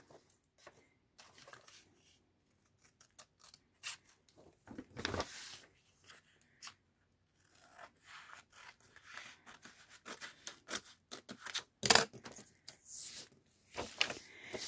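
Scissors cut through an old paper atlas page to make Christmas wrapping, producing soft, close snips and rustles that come and go alongside some handling noise, with a few sharper cuts toward the end.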